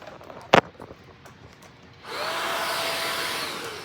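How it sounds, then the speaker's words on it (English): A cordless handheld multi-tool vacuum with its floor head works across a rug: a sharp click and faint handling at first, then a loud, steady, close-up whirring roar that holds until the end. "Now watch how it vacuums on this rug."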